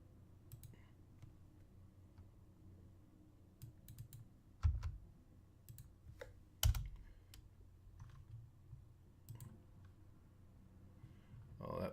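Scattered keystrokes and clicks on a computer keyboard, mostly quiet with a few sharper taps, over a faint room hum.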